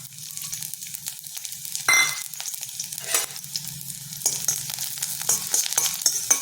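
Cumin seeds, fenugreek and garlic roast in oil in a pan for onion thokku, giving a steady close sizzle with a few scraping stir sounds and brief louder crackles; no one speaks.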